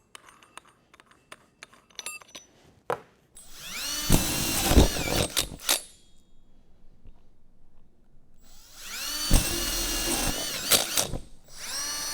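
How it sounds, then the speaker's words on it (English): Power drill driving a hole saw through a fiberglass reinforced plastic panel: two loud sustained bursts of whining, grinding cutting, each a few seconds long, separated by quiet with small clinks and handling noises. "we're gonna go ahead and use these 2 hole saws to cut out the vanity and toilet"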